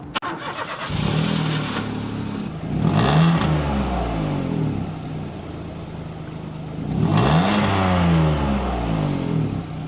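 A Peugeot 107 three-cylinder engine starts and revs repeatedly, rising and falling in three or four bursts, close and loud with a rough, rattly, tractor-like tone.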